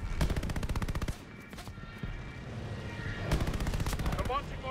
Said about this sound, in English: We gotta shoot our way out of this.